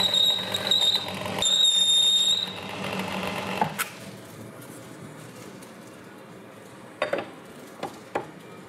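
A torque wrench tightens the connecting rods on a 1936 Ford Flathead V8 engine, giving a few sharp, isolated clicks near the end after a stretch of whirring mechanical noise.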